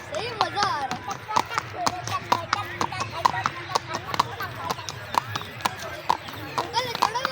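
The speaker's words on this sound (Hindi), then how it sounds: "मैं चला रहा हूँ घोड़े को।" Horse hooves clip-clop in a steady, close rhythm during a ride near a lake, with someone talking excitedly over the hoofbeats and bits of other voices in the background.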